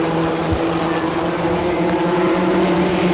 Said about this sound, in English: Engines roar. The Midgets racing at turn number 1.